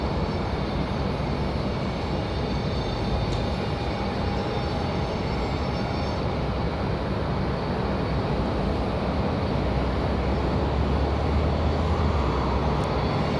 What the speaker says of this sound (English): Here comes Breeze Airways from Pittsburgh.